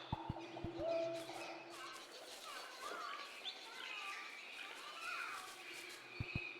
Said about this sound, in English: So many birds in that run space there.